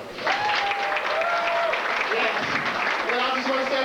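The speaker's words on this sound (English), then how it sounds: "I'd like to give them a round of applause." Audience applause for the contest promoters at the 1993 Florida Entertainer of the Year event, a dense, steady roar of clapping lasting the whole stretch, with voices and whoops cutting through.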